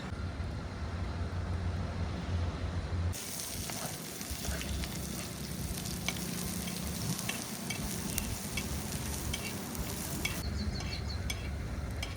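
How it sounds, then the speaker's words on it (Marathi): Fish cooking in a covered pan over a low gas flame outdoors on a roadside family trip: a steady, faint frying sizzle with a continuous low hiss, with no talk. "मित्रांनो, एकदम स्लो गॅसवर आपण मच्छी ठेवलेली आहे"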